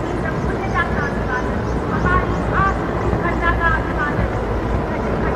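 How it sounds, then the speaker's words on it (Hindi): Mi-17 helicopters fly close over an Independence Day ceremony venue, dropping flower petals, with a constant rumbling engine drone throughout while a commentator talks over it. "आकाश में Mi-17 हेलीकॉप्टर्स कार्यक्रम स्थल के नजदीक आते हुए और पुष्प वर्षा कर रहे हैं"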